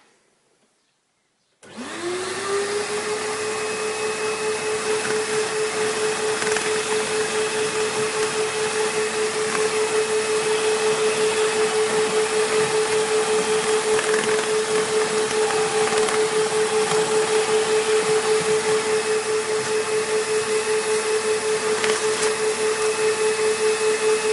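A power sweeping machine spins a nylon rod flayer up behind a chimney plate, starting abruptly and then holding a loud, steady motorized whine with a constant tone and whirring for over twenty seconds.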